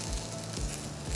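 Curry leaves and diced tomatoes sauté in a pan over a medium flame, giving a steady, close sizzle and crackle that carries on without a break and with no voices.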